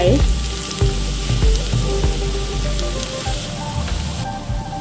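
Okra (bhindi, ladyfingers) fries in a pan over a medium-to-low flame while a spoon turns it. A loud, steady sizzle carries throughout, broken by a few occasional scraping stirs.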